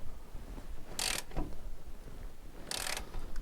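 A ring spanner turns a nylock nut on a car's track rod end, giving two brief bright metallic clicks and a faint creak over a low background hum. No one speaks.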